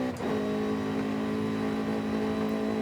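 A Honda-style VTEC car engine in Forza Horizon 5 holds a steady, loud rev from start to finish, a strong droning tone with rich harmonics and a slight swell just after the opening.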